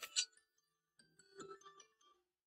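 A phone reminder alarm for eye drops rings out as a short, bright electronic chime at the start, then a second softer run of tinkling tones follows, alone in an otherwise quiet room.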